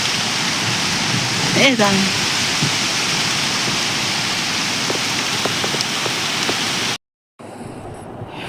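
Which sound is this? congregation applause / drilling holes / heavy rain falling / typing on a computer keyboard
heavy rain falling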